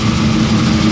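Ferrari 250 short wheelbase engine running at a car show, a loud, steady close-up engine drone with no talk over it.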